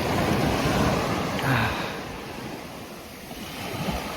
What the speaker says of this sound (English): I share my presence with the water, with the sea, with the ocean, with the waves,